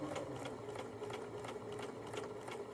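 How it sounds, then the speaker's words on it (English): A sewing machine stitching down the pocket of a hoodie on a Kwik Sew K3045 pattern, giving a continuous fast mechanical whir with regular needle pulses, close and steady. "And I'm going to sew down the pocket."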